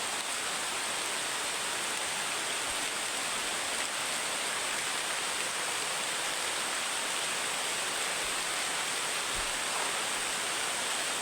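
A hard downpour of rain hisses loudly and continuously, a thick steady wash of falling water with only a few faint low knocks beneath it.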